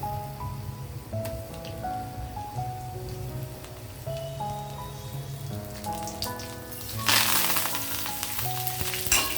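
Cumin, mustard seeds, curry leaves and lentils crackle and sizzle steadily in hot oil, a dense close frying hiss under a droning background tone that flares louder near the end as more goes in.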